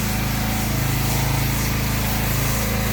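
A pressure washer's engine runs steadily at lowered revs on a paver driveway, giving a continuous loud droning hum with a strong low buzz and broad hiss, with no break over the whole stretch.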